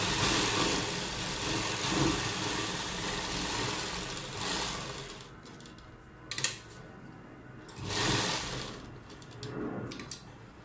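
A sewing machine stitches around a kurta neckline on buckram, its motor whirring in a steady run that eases off partway, then resumes in short bursts.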